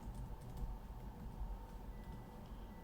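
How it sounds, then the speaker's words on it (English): Quiet keystrokes on a computer keyboard tick faintly and steadily beneath a low background hum, with no voices. "I heard him typing."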